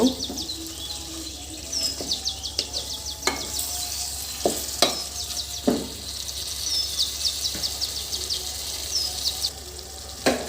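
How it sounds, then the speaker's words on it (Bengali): Magur catfish sautés slowly over low heat in a pan with a steady soft sizzle, broken by a few sharp scrapes and clicks from stirring. No one speaks. "আমি প্রথমে এটা পাঁচ ছয় মিনিট এইভাবেই একটু আস্তে আস্তে কষিয়ে নেব"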